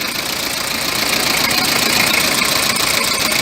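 A 1995 Toyota Hiace's 1KZ-TE diesel engine, hard to start, runs steadily up close, a loud, continuous idle with a rough, knocking clatter and no pauses or voices.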